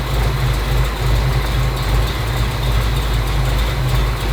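A 340 engine idles steadily while warming up, a loud, even rumble with a constant low drone and no break, heard close and alone without talk.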